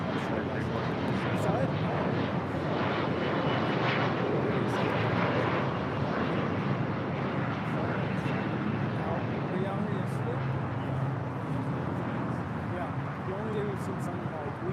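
An airliner taking off at LAX gives a steady, loud jet roar lasting throughout, with people talking faintly over it.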